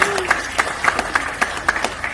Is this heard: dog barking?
no